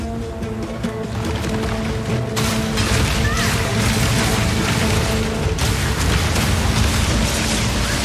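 A siege crossbow in Path of Exile 2 fires permafrost bolts, giving loud booming impacts and icy bursts in a dense, layered barrage over constant game effects, with a narrator talking over them.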